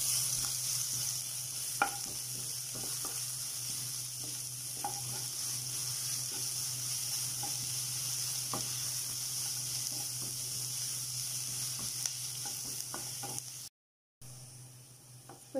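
Sliced onions frying with salt in a pan for broken wheat upma, a steady soft sizzle with a low hum beneath and scattered scraping clicks of a spoon stirring, close and quiet, with no voice.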